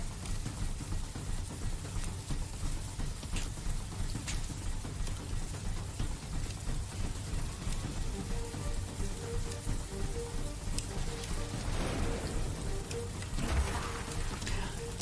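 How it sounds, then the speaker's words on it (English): Hail pelts a base in The Riftbreaker, a steady fairly quiet patter of impacts with no break, like dense rain drumming on surfaces, while a low engine-like drone sits underneath. "A hailstorm is damaging our base."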